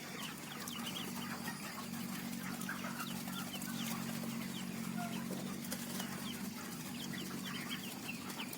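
Chickens on a local poultry farm in Assam cluck softly and sporadically throughout, fairly distant and quiet over a steady low background hum, with no talking.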